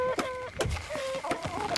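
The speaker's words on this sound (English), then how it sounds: "Why do I hear chickens?" Chickens clucking in the Endzone survival-settlement video game, a few short clucks and squawks in quick succession, close and clear with no talk.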